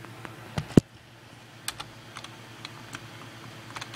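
Keys clack on a computer keyboard in scattered, uneven taps, with one sharper louder keystroke near the start, close and otherwise quiet.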